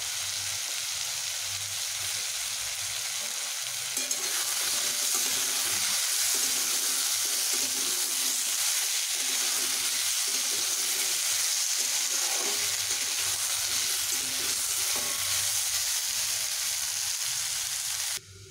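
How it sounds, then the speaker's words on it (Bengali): Bottle gourd and potatoes fry together in a pan with a loud, steady sizzle that hisses without pause from start to finish. "এবার আমি লাউ ও আলুগুলোকে একসঙ্গে ভেজে নেব।"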